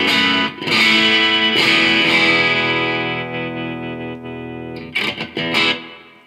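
An electric guitar on its bridge pickup plays through a Bugera V55 amp head, giving distorted sustained chords that ring out and fade, then a few choppy strummed hits near the end.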